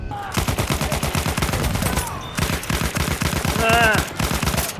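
Rapid automatic gunfire from a Battlefield 1 match, a steady stream of close, loud bursts with short gaps, mixed with game effects and occasional vocal sounds.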